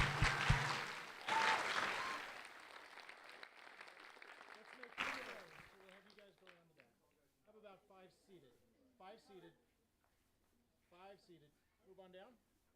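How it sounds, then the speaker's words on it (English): Audience applause for award winners at a university awards ceremony, a loud burst of clapping that swells and fades over the first few seconds, then quiet voices speak in a hall. "And one more time, round of applause,"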